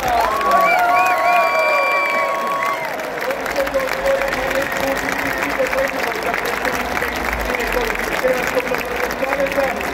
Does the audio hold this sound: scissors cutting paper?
no